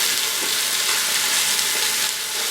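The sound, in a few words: searing pot roast meat in Instant Pot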